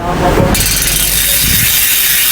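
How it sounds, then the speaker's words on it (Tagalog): A Saturn Dion ratchet-type bicycle hub freewheels with a loud, dense clicking buzz that follows a brief rubbing start and then runs steadily to the end. "Kung gusto niyo naman mas maingay na ratchet type, eto, meron tayong Saturn Dion."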